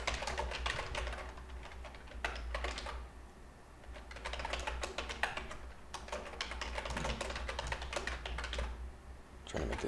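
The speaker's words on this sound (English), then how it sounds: "so I'm just typing that out" Rapid typing on a computer keyboard while coding, with bursts of close, crisp key clicks separated by brief pauses, quiet and alone.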